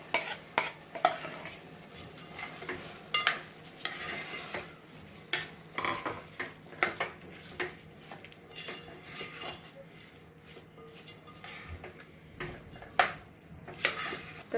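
Rice being stirred into a soybean masala in a pan, a metal spoon scraping and clinking against the pan in repeated strokes over a faint sizzle, close and fairly quiet, with no talking.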